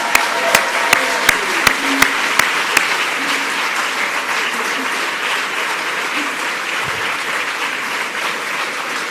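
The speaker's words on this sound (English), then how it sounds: "let's give everybody a round of applause" Sustained applause from an outdoor audience at an Amazon headquarters announcement event, with sharp early claps standing out close by before settling into a steady, even wash of clapping that continues throughout.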